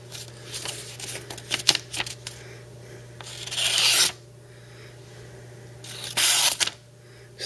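A Kershaw OD-2 folding knife slices through paper in a cut test, giving rustling handling noises and two longer, loud rasping swipes close by over a steady low hum.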